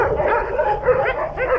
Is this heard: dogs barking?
yes